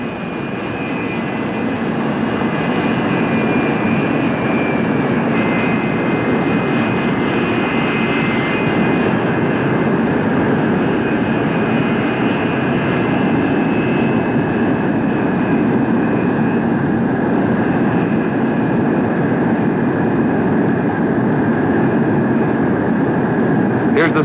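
A Convair F-102 jet aircraft flies and lands, its engine a loud, continuous roar with a steady whine that holds throughout, while a voice may be faintly present underneath.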